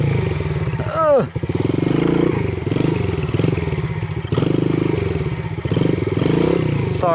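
A motorcycle engine drones and revs unevenly at low speed while the rider holds a slow wheelie, loud and close, with a brief dip and scrape near the start and no speech.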